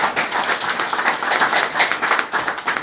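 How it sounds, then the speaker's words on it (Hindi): A crowd at a company gathering of Moral Group of Companies gives loud, steady applause, a dense wash of many hands clapping together without a break, with no talk over it. "मैं चाहता हूँ सबके लिए जोरदार तालियों से सम्मान करें"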